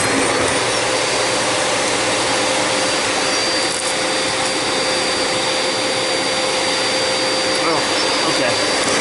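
A Tristar EXL MG2 vacuum cleaner runs loud and steady, a continuous close roar with a high whine and no break in the noise.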